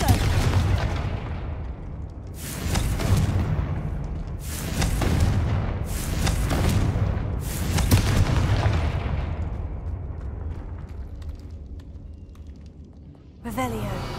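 Confringo fire spells detonate in the Hogwarts Legacy video game, five heavy booms landing in quick succession about every second or two, then fading into a quieter rumble before a final sharp burst.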